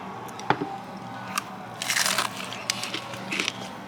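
Crisp crunching bites into a fried catfish fillet, a few sharp cracks followed by a brief burst of crackly chewing up close, with quiet room hum underneath.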